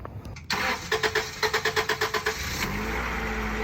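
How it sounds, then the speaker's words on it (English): A Lexus IS300 engine cranks with a quick run of rhythmic starter pulses, then catches and settles into a steady running note, close and fairly loud. "we're gonna see if it runs and drives"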